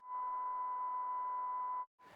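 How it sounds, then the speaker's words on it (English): A Serato digital vinyl control record playing its timecode signal, a steady, piercing single-pitch tone with a hissy edge, held for nearly two seconds before a brief dropout and restart. "the Serato record sounds like this"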